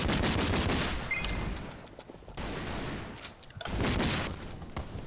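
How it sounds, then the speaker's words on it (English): Rapid gunfire and blasts from an online shooter game crackle in dense bursts, loud at first, easing briefly in the middle, then surging again before tapering. "Explosions just everywhere."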